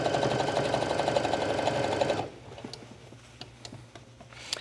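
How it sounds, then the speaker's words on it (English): A sewing machine stitches yoga pants fabric in a steady, fast, loud mechanical run that stops abruptly partway through, followed by quiet handling taps and light fabric rustling. "you can see how I'm sewing in this large circle"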